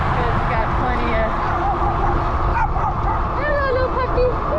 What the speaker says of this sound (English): Dogs are always chasing you